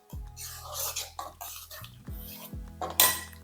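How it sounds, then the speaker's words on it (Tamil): Metal spoon scraping and clanking against a pan while tomatoes are sautéed in oil for fish gravy, with several sharp close knocks among soft stirring, and no talk. "இது நல்லா வதங்கட்டும் இந்த எண்ணெய் பிரிஞ்சு வர வரைக்கும்"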